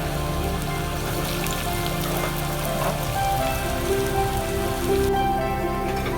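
Lauki koftas deep-fry in hot oil, giving a dense, continuous crackle and sizzle like rain on a surface, with a steady level throughout and no voices.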